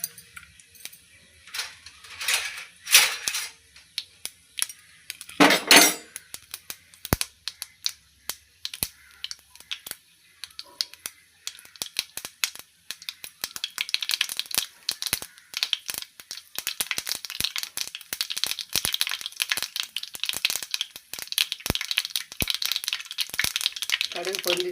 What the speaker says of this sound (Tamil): கடுகு நல்லா பொரியட்டும்